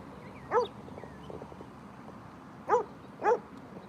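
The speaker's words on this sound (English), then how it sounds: "Oh, he's barking, y'all." A dog barks once, then twice more in quick succession a couple of seconds later, moderately close against a quiet background.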